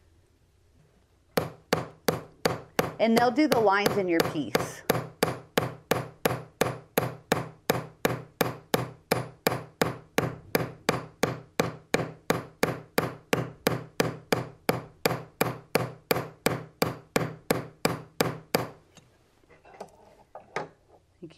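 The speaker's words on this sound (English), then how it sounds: "Now let's go on to the riveting hammers." A riveting hammer strikes metal to texture a jewelry piece, giving a long, steady run of sharp, evenly spaced taps at close range. Someone speaks briefly near the start.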